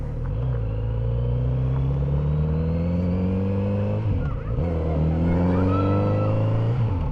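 An Indian FTR motorcycle engine, stock, revs steadily while riding on the road, its pitch climbing, dipping briefly, then rising again; loud and close throughout with no talking.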